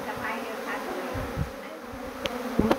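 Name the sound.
honey bee colony buzzing as it enters a hive box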